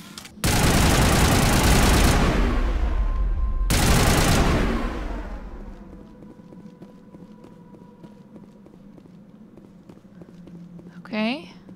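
Gunfire from a weapon shot at a Geth transmitter in the video game Mass Effect, a loud dense burst of rapid shots in two runs across the first four seconds, then quiet game ambience with a brief electronic whoosh near the end.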